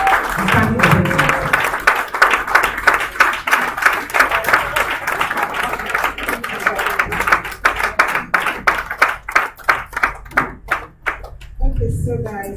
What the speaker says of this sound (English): With a round of applause, clap well.